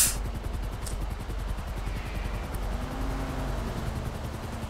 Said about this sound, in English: I hear the helicopter. It should be coming soon